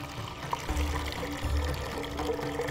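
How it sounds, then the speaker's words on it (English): Water poured from a jug into soaked dal in a pressure cooker, a steady close pour lasting the whole moment with a few louder gushes. "Liter of water goes in, and that's about it."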